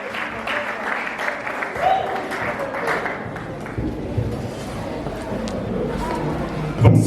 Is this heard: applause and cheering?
yes